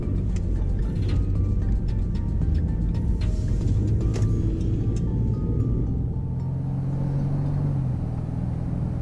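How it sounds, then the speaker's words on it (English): A pony-packaged car with GT suspension pulls away gently in a straight line, its engine and tyre rumble steady and close, easing off toward the end with no talk over it. "driving it in a straight line without giving it very much beans"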